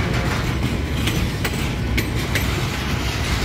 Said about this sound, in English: I don't know how long this train really is